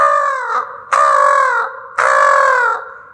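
A human voice imitates a crow's caw, three loud drawn-out nasal calls in a row with short pauses between them, close and clear against silence.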